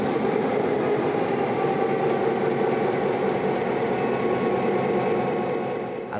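A heavy diesel locomotive engine starts up cold and drones loud and steady, a low throbbing rumble that holds for several seconds before easing slightly at the end.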